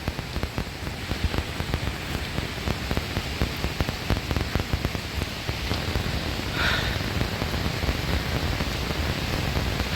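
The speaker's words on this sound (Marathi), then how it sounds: "हा, पावसाची सुरुवात." Steady rain falls near a series of waterfalls in the hills, a dense even hiss that carries on without a break across the whole stretch.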